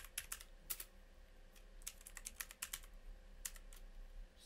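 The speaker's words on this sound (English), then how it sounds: "I'm just going to type in example" Quiet, close keystrokes on a computer keyboard come in an irregular typing rhythm with short pauses, over a faint steady hum.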